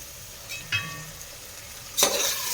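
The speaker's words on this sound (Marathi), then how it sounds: "हे छान परतून घ्यायचं मिश्रण." A vegetable pulao mixture with ginger and garlic sautés in a pan over low heat, a soft sizzle with a few light stirring scrapes and a louder clatter near the end.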